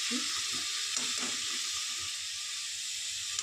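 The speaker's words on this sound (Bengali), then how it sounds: "একটু নাড়াচাড়া করে নিচ্ছি" Ingredients for a snakehead fish curry are stirred in a pan, giving a short stretch of continuous bright hiss with faint low scraping movements underneath.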